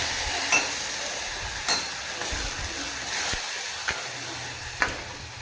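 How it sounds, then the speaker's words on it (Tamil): A ground masala of thoothuvalai herb leaves frying in a pan for rasam, a steady hissing sizzle with a few light spatula taps scattered through, close and even. "அதை போட்டுக்கலாம் போட்டு வதக்கி வதக்கிட்டுக்கலாம்"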